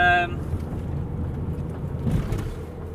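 A car driving between Moria and Skala Sykamineas, a steady low road rumble and engine drone heard from inside the vehicle, moderately loud, beginning after a brief tone, with someone talking over it.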